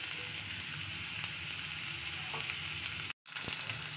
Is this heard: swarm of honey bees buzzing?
no